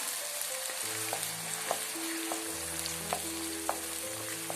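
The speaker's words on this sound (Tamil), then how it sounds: "அடுத்தது வெங்காயம் போட்டுக்கலாம்" Onions frying in a pan for a red chilli chicken curry give a steady, close sizzle with occasional sharp clicks from stirring and a low hum in the background.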